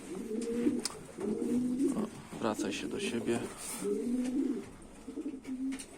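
Homing pigeons coo in a loft in repeated low, rolling phrases at close range, running under a voice speaking over them.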